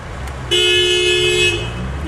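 A car horn on a street gives a single loud, steady toot lasting about a second against a background of traffic hum.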